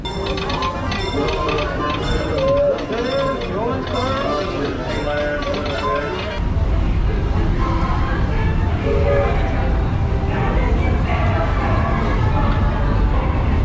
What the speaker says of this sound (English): So we did the Grand Circle tour on the train